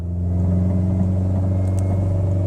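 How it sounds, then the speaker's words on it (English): Chevrolet Cruze with a 6T40/6T45 automatic transmission held in reverse on the brake with the accelerator floored, its engine droning at steady high revs in a continuous loud, close rumble, no voices. "Accelerator to the floor."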